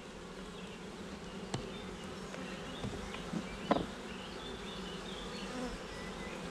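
Honeybees hum around a queen cage set into a nucleus colony hive, a steady close buzzing throughout with a few faint knocks and clicks from handling.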